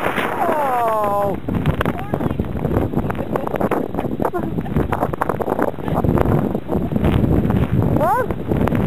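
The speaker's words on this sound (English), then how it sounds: "It totally just blew me over." Strong wind roars and buffets a microphone at a blizzard practice day, a constant loud rumble masking most detail, with brief voices calling out under the gusts.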